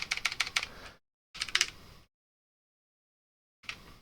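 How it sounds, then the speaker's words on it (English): Quick bursts of computer keyboard typing, close and fairly loud, in short clusters of rapid keystrokes separated by silent pauses, with no voices. "I need to work on my typing."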